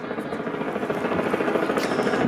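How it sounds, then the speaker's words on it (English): An airplane passes overhead near downtown Toronto on its approach to Billy Bishop Airport, a steady, loud, rumbling drone that fills the whole stretch with no talk. "Oh, here a plane going by."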